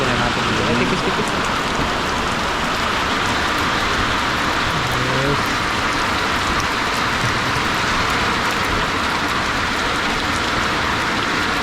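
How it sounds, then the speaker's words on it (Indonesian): Heavy rain pouring down in a steady, dense wash of noise that fills the whole stretch without pause, with faint background tones underneath. "Kita tungguin aja hujannya reda"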